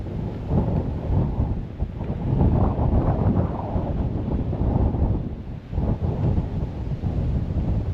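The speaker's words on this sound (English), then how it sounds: "It's a wee bit windy up here" Strong wind buffets an unshielded microphone on a hilltop near Dumbarton, a steady, loud rumbling roar with gusting swells and no voices.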